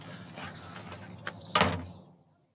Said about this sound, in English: Close the front door